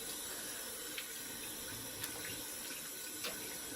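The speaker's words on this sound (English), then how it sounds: "Excuse me while I do my rinsing." Tap water running steadily into a sink while rinsing during a wet shave, a constant close hiss with a few faint clinks and splashes on top, no talking.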